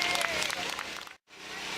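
Audience applause for Atka the performing dog at a show, steady, fairly faint clapping broken by a brief cut before it resumes.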